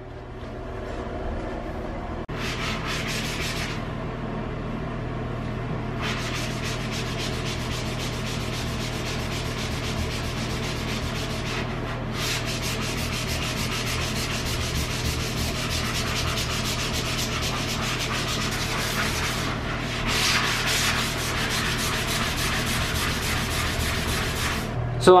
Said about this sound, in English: I'm using a new dry eraser, and I am going to work on some of these green spots and these rust spots.